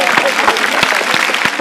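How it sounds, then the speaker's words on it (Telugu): Boys and girls on a television game show clap loudly together in a dense, rapid burst of applause with voices mixed in. "బాయ్స్ అండ్ గర్ల్స్ గట్టిగా క్లాప్స్ కొట్టాలి"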